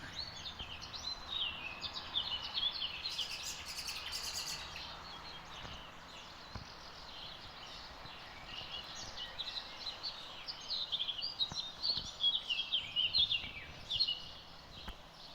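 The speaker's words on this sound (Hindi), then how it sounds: "चिड़ियों की आवाज़ बहुत ही खूबसूरत लग रही है इस टाइम" Birds chirp and tweet outdoors on a cloudy morning in Italy, with scattered high calls that cluster near the start and again toward the end over a quiet background; no talking.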